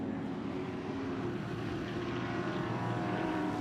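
Chevy Camaro muscle car racing engines roar steadily at a Highlands circuit race, a continuous loud drone with a sustained engine tone and no pauses.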